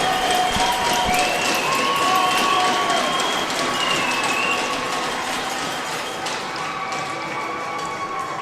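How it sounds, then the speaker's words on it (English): Crowd at a junior lacrosse playoff game in an indoor arena, a sustained roar of cheering and applause with shouts and whistles rising over arena noise, staying loud throughout and easing slightly toward the end. "you can hear the crowd is alive here at the ILA"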